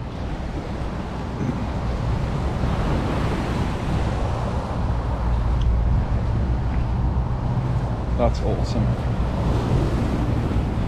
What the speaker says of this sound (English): Oh, look at the sea.